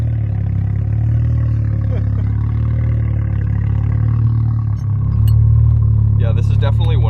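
A Mazda FD RX-7 with a rotary engine of about 400 hp drones loudly under acceleration from inside the cabin, its steady rotary hum rising in pitch toward the end, with a brief dip and then a louder surge.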